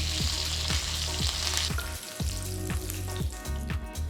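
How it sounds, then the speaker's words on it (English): Fresh curry leaves, urad dal, cumin and mustard seeds crackling in hot tempering oil, a dense, continuous sizzle with faint regular ticks underneath and no voices. "add the fresh curry leaves and roast it"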